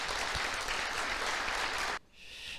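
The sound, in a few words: applause in church service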